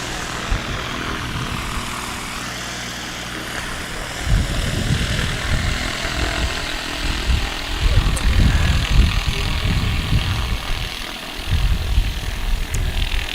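A STOL propeller aircraft on a practice run at a Tehachapi STOL event revs up, its engine roaring in surging bursts over wind noise. It is fairly near and loud, with occasional voices.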